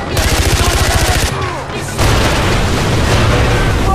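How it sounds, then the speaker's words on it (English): Gunfire in the Far Cry 4 video game from a gun mounted under a vehicle's dashboard: rapid loud bursts of automatic fire with booming thuds, a brief pause, then more sustained shooting with a voice shouting underneath. "There's a gun underneath the dashboard!"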